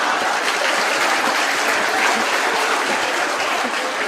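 Loud, continuous applause from a lecture audience at a literary talk, many hands clapping together in a dense, even roar that holds steady from start to finish with no speech over it.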